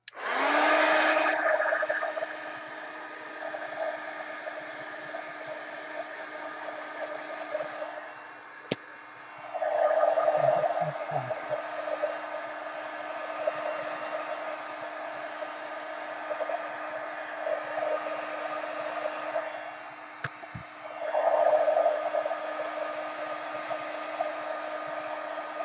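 Heat tool drying Distress Oxide ink on a craft tag: a loud, steady hair-dryer-like blowing roar running almost continuously, with the airflow tone swelling three times, around the start, ten seconds in and twenty-one seconds in.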